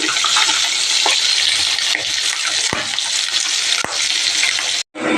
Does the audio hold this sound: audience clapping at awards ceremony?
no